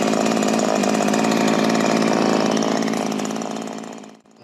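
A Ryobi RY3716 gas chainsaw runs loud and close after a carburetor and chain replacement. The engine holds a steady buzzing roar, then cuts out and stops abruptly at the end.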